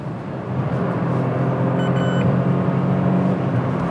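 Citroën C3 Aircross compact SUV with a manual gearbox, its engine steadily droning and revving through a downshift, heard close from inside the cabin with a brief beeping tone partway through.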